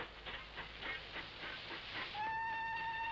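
A steam engine train pulling away from a railway platform, with rhythmic chuffing at a moderate distance, then a sustained steam whistle near the end.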